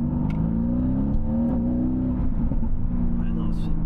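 A Mercedes-AMG GT with a rear-drive V8 accelerates, a loud, close engine drone climbing in pitch through the rev range, with talk over it.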